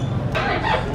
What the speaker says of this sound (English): We are now in a cage with some birds.